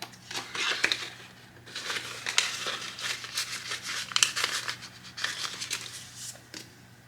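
Paper bills and a paper envelope rustle and crinkle nearby in a steady run of soft, uneven crumpling bursts while cash is counted and stuffed for a weekly budget, with no talking.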